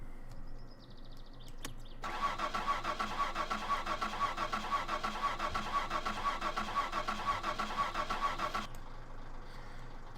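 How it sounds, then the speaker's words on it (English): A car engine starting in the driving game My Summer Car: a short cranking burst, then the engine catches and settles into a steady mid-pitched idle that runs for several seconds before cutting off. "The car is on."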